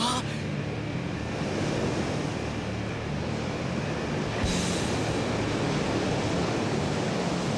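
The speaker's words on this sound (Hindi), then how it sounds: "लहरें काफी तेज हैं।" Strong cartoon waves surge through water in a steady, loud, unbroken rush with no pauses, filling the whole stretch and carrying on alone.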